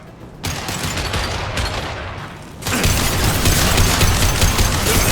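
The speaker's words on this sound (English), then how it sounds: "Firing concussive shot." Concussive shot and gunfire in the Mass Effect shooter game, a dense, loud burst of rapid shots that steps up into an even heavier barrage partway through, with no talking over it.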